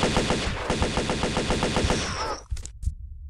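Rapid automatic gunfire from the Tomb Raider video game rattles in a fast, loud, even burst, then breaks off into a few scattered single shots and ringing echoes.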